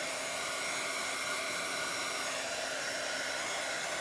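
A hair dryer blows steadily and close by, drying the back of a wet Bible journal page, a continuous whooshing hum for the whole stretch with no talk.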